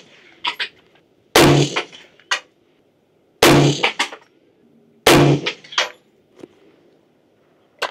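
AR-15 rifle firing a group at a range: three sharp, loud gunshots spaced a couple of seconds apart, each with a short ringing tail and fainter clinks in between.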